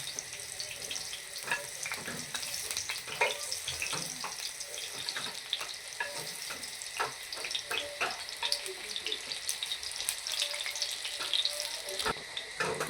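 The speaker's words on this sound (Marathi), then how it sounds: "तुम्ही यांना शॅलो फ्रायसुद्धा करू शकता डीप फ्रायसुद्धा करू शकता मला चांगले सोनेरी रंगावर तळून घ्यायचं" Aloo vadi, colocasia leaf rolls, deep frying in oil until golden, a continuous fizzing sizzle with frequent small crackles and pops throughout.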